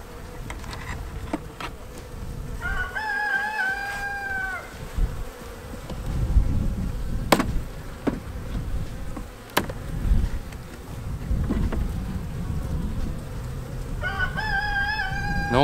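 Honey bees buzz steadily around an opened hive during an inspection. The hum is close and continuous, with scattered clicks and handling noises and a rooster crowing faintly in the distance twice.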